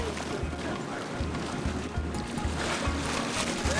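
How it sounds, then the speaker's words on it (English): A sailboat cruising at about 6 knots on the Atlantic Ocean with most of the headsail out gives a continuous rush of water and wind, with a low rhythmic thumping of hull against waves. "Cruising at 6 knots with just a little, well, maybe most of the head sail out"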